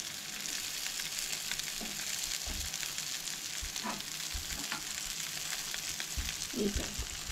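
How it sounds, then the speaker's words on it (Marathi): Vegetable slices for a Goan thali fry in a pan and are turned over, a constant soft sizzle with a few low clunks and scrapes near the end, fairly quiet and without talk. "तर आता न्हय ही टर्न करून घेवया कापां आमची."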